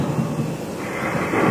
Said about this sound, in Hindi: जैसे ही बिजलियां कड़कती हैं